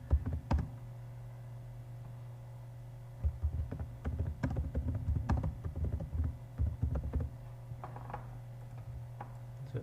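Keystrokes on a computer keyboard while SQL queries are typed, coming as a quiet, irregular run of soft clicks over a steady low hum, with bursts of faster typing and short pauses.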